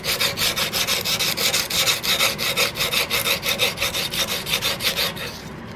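A cast butt plate for an Investarms Gemmer muzzleloader rifle is sanded with rapid back-and-forth abrasive strokes. The rasping rub is loud and close and continuous, with no talking.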